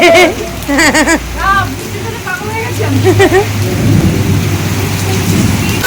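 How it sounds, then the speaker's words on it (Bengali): Heavy rain pours steadily while deep thunder rumbles, with a child's and adults' voices talking and calling out over the storm throughout. "আজকের বৃষ্টিটা যে কি লেভেলের দরকার ছিল আমাদের সবার জন্য"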